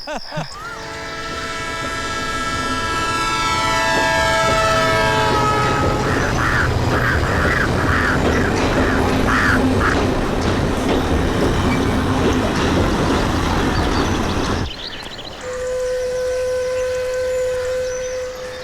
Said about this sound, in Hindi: ट्रेन तो हमारी निकली गई, छूटी गई